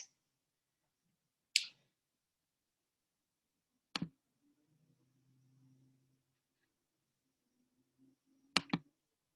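A computer mouse clicks in a quiet room: a few crisp, isolated clicks spaced seconds apart, the last one a quick double, with faint low noise between them.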